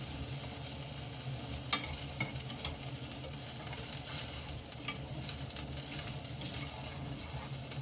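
Food sizzling and frying steadily in a hot pan, a soft continuous crackle with occasional light clicks from stirring or moving the food, close by and without talk.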